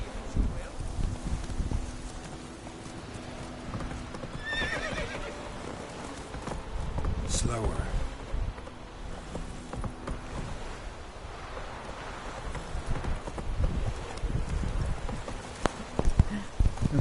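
Horse hooves galloping in a PS4 video game, a steady rapid clip-clop running throughout alongside an occasional whinny and rustling ambience, loud and close.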